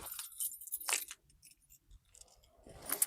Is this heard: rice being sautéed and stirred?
no